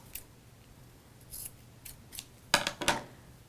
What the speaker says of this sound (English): I will trim it so that it's even with the bottom and just even up those ends down there